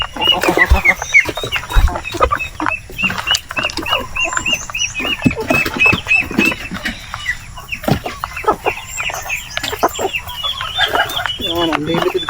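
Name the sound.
black australorp chickens clucking on farm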